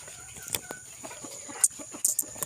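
Chickens cluck in short, scattered bursts, a few sharper calls standing out against a quiet background.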